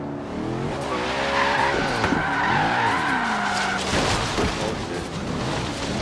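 Car in Forza Horizon 3 sliding under the e-brake, a loud sustained tire squeal with revving engine tones rising and falling, continuous and close for several seconds.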